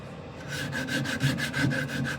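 Coarse 80 grit sandpaper rubbed back and forth over a wooden surface, a steady run of rhythmic, close strokes about every quarter second, loud and alone with no talk.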